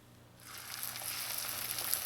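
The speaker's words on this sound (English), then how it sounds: "now I'm going to move on to frying my spring rolls on medium heat." Steady crackling sizzle of spring rolls frying in hot oil, starting softly then building to a constant, busy hiss with no talking.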